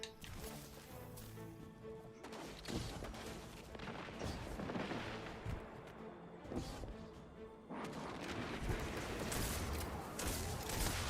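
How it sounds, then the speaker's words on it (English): Hand cannon gunfire in a video game cracks repeatedly amid a dense, noisy wash of combat sound, with sharp shots standing out every couple of seconds. "I'm happy with this hand cannon."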